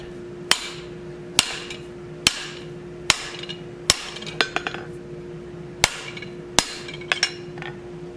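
Hot steel is hammered to shoulder it down on an anvil, with single heavy ringing blows spaced about a second apart, a few quicker light taps between them, and a steady background hum, close up.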